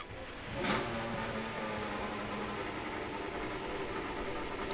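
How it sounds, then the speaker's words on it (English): Honda Formula 1 car engine in the F1 2018 racing game at Silverstone, a steady droning hum held at an even level throughout, with a faint rise near the start and no talk over it. "this Honda engine doesn't sound healthy, but I do love the noise of it this year"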